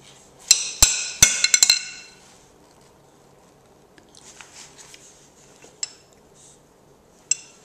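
A spoon stirs and clinks in a dish, with a quick cluster of sharp metallic clinks at the start, followed by quieter scraping and two later isolated taps, close by.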